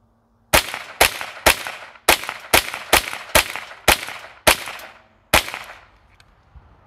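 Ten sharp, loud rifle shots from a Beretta ARX 160 firing CCI Mini Mag ammunition, spaced roughly half a second apart in a fairly steady cadence with one slightly longer gap, each crack followed by a short ringing decay.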